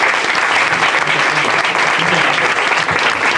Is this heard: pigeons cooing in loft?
no